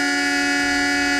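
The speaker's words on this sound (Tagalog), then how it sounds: "Bumusina na eh." A loud, sustained horn blares on a Filipino variety TV show, one unbroken rich tone held steady throughout with no talking over it.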